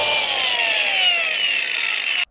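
A flap disc grinder cleans laser-cut slag off a metal diff cover, a loud, steady high-pitched whine with grinding hiss that slowly drops in pitch under load before cutting off abruptly.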